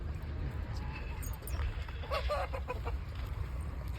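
A free-range desi hen clucks softly near a village coop. A few short clucks sit over a low, steady background hum, fairly faint and close by.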